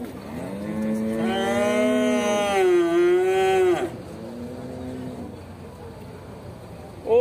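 Oxen at a cattle fair in São Bento do Una, Pernambuco, let out one long, loud, drawn-out moo that rises and falls, followed by a shorter, softer low call, with outdoor fair noise continuing underneath.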